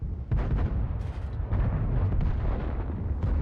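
Booming tank cannon shots and rumbling impacts in World of Tanks, dense and heavy throughout with a couple of sharper blasts, close and loud with no talking.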